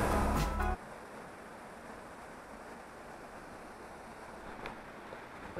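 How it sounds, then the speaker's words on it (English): A small waterfall in Sapa, Vietnam, reached by a trek, gives a steady broadband rush of falling water that fills the whole clip, preceded by a brief louder burst of wind buffeting at the start. "We finally reached the waterfall spot. The small waterfall."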